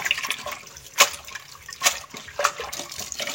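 Papaya leaves being rinsed in water give sharp intermittent splashes and sloshes about every second, with a faint watery trickle between them.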